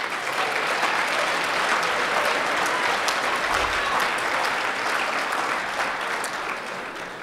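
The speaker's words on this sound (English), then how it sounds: "let's give one last round of applause to all of tonight's winners" An audience at a university athletics awards night applauds its winners, dense and steady clapping that fills the room for several seconds before tapering slightly at the end.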